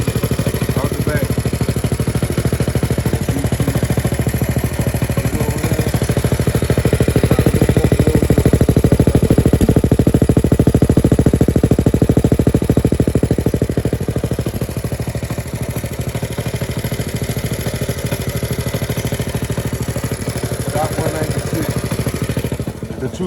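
A motorcycle engine with a VM22 clone carburetor idles steadily for the whole stretch, a loud, close mid-pitched clattering drone that swells slightly in the middle before settling back.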